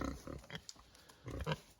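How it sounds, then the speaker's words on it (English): A Mangalitsa, Ossabaw, Duroc and Yorkshire cross pig grunts and oinks in short, fairly faint bursts, close by on a farm. "Red is a Mangalitsa Ossaba Duroc Yorkshire cross"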